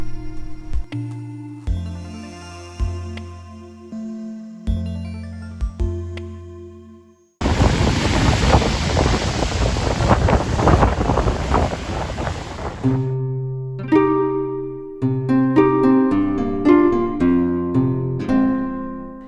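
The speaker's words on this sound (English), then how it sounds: "It's really windy" Blustery wind buffets the microphone in a loud, roaring middle stretch by the sea at Hastings, England, framed by quieter passages of a tonal music-like bed.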